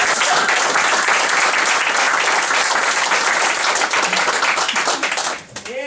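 Loud, dense theatre audience applause rolls on steadily for several seconds, many hands clapping together close by, then fades out abruptly at the end.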